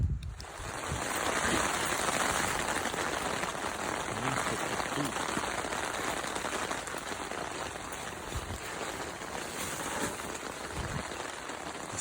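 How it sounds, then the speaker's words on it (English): Rain pattering steadily on the fabric of a vintage Coleman tent at a lakeside campsite at night, a dense continuous hiss heard from inside, close and even throughout with a few heavier drops. "It's starting to rain."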